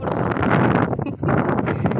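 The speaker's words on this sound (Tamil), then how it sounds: "காற்று அவ்வளோ காற்று அடிக்குது" Strong wind blows outdoors near the sea, a loud, dense rushing roar with buffeting gusts that dip briefly and then surge back.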